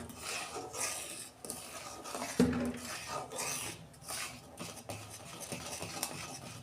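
Mustard oil being stirred into homemade mango kasundi with a utensil, a steady close scraping and clinking against the bowl with one sharper knock partway through.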